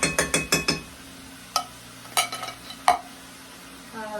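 Creamy Philly cheese steak pasta is stirred in a pot, a quick run of five or six scraping, clinking strokes followed by a few sparser knocks of the utensil against the pot, close and clear.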